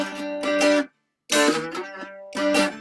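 Stringed instrument playing a short vamp that leads into G in a chugging train-like pattern, with quick picked bursts, a brief pause, then more strums, close and clear.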